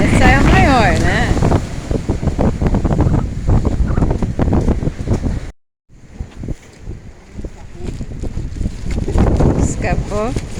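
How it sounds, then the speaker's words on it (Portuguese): Strong wind buffets the microphone while fishing on the water in rainy weather, a rough gusty rumble with a brief dropout, under loud nearby talking throughout. "o vento tá danado"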